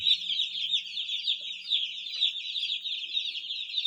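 Newly arrived chicks cheeping in a box, a dense, continuous chorus of high peeping calls, fairly close, with no speech.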